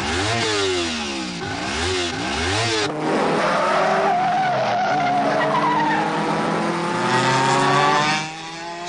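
A Honda NSR motorcycle in a gang-style build revs in sharp, repeated blips and then holds a long, howling rev with a squealing edge. It is loud and close, and nobody talks over it.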